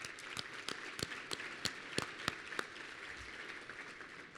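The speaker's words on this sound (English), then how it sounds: "join me in giving them a good round of applause for their hard work" Applause at a Chattanooga Area Chamber business outlook event, fairly soft and thin, with a handful of distinct nearby claps standing out before the clapping tapers off toward the end.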